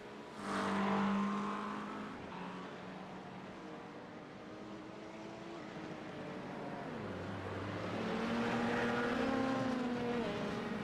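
A Porsche race car in a racing video game rolls into the pit lane, its engine a quiet, steady hum whose pitch wavers and climbs slightly toward the end, with no one talking.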